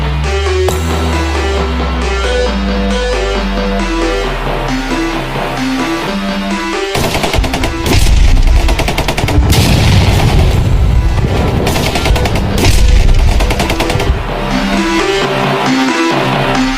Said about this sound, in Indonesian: saat itu beberapa tentara Jepang sedang berpatroli dan adu tembak